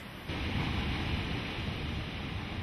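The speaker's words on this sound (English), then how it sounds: "By early summer, the sound of water thunders throughout the park." Snowmelt water thunders down Yosemite's waterfalls at high early-summer flow, a dense, steady roar that swells in just after the start and stays loud and unbroken.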